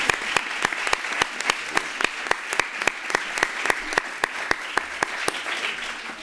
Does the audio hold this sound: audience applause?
yes